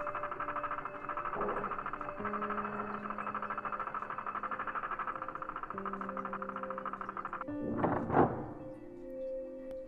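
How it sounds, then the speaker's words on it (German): A rotating mechanism in the point-and-click game Post Mortem hums steadily with tonal drones, then closes with a sharp clacking thunk near the end, heard alone without talk. "es klackt anders am Schluss"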